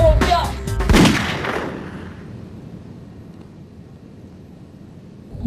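Gunfire in a film scene: a burst of loud, sharp shots in the first second, fading into a long reverberant rumble and quiet background.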